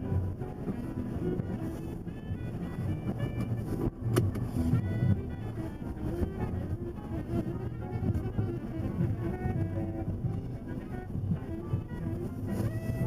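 Cars sit stalled in Chicago-area road traffic, a steady low rumble of idling engines and passing vehicles with some wind buffeting on the microphone.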